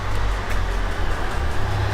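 Low, steady engine rumble from a Mercedes-AMG CLA 45 4MATIC Shooting Brake with its large 2-litre engine and stock exhaust, a continuous deep drone heard close for a couple of seconds with no talk.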